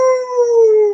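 A person imitates a dog howling at the moon during a children's yoga session, one sustained clear tonal howl slowly sliding downward, loud and close, alone for about a second.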